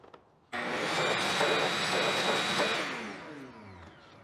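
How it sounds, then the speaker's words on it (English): A vacuum cleaner tidies up drilling debris, switching on abruptly with a loud, close whine, running steadily for a couple of seconds, then spinning down as the motor winds off. "All right, quick little vacuum."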